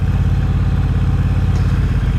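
A 2022 Triumph Bobber motorcycle engine runs on a motorway, a loud, continuous low throbbing drone with steady mechanical clatter and rushing road noise, no voices.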